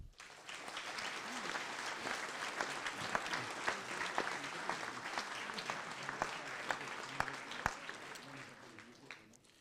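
At a mayor's New Year wishes ceremony, the audience applauds its elected officials with a long, fairly faint spell of clapping marked by scattered sharp individual claps.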